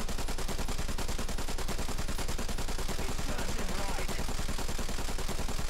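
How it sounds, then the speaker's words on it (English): Rapid, continuous machine-gun fire aimed at an IL-2 aircraft in a video game, a loud, steady rattle of evenly spaced shots that runs through the whole stretch without a break. "Only 2 of the guns were firing at first."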